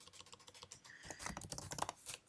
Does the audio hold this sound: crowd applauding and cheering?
no